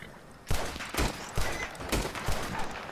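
Gunfire in Red Dead Redemption 2: a burst of shots starting half a second in, followed by several spaced booming reports roughly every half second, moderately loud against a faint background.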